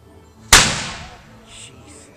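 A single loud, sharp boom of a cannon firing at an outdoor Independence Day event in Northern Ireland, with a long rumbling decay trailing off afterward.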